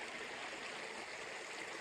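A creek runs beside a free roadside camping spot, a steady broadband rush of flowing water filling the whole stretch, close and even with no voices.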